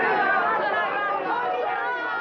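Dense crowd chatter fills a film scene, a steady wash of many overlapping voices murmuring close and continuous throughout, with no single speaker standing out.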